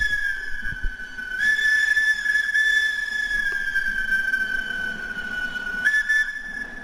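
A steam locomotive on a mountain railway in the Balkans sounds one long, sustained whistle, loud and steady for several seconds, with a second blast starting near the end.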